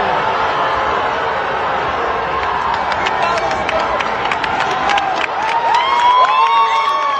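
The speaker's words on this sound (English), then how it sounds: "the crowd reacts very positively to the flag" Crowd at a Bernie Sanders rally cheering as a Palestinian flag is unfurled, a dense sustained roar of many voices with whoops and shouts, swelling louder toward the end.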